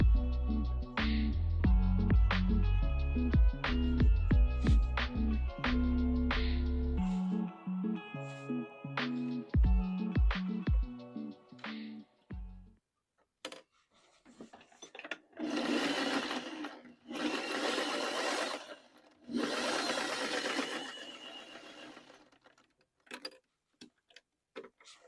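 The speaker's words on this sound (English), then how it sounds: "then I am going to sew the fabric together in strips" Sewing machine stitching vintage fabric strips together, loud close bursts of rapid mechanical ticking and whirring in several runs with brief pauses, followed by softer rustling and handling of fabric.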